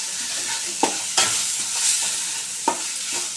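Onion fry seasoned with chili powder gets stirred in a hot pan, giving a steady close sizzle broken by a few sharp spatula knocks against the metal.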